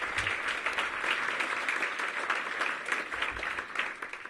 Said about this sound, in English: So give our team a huge round of applause.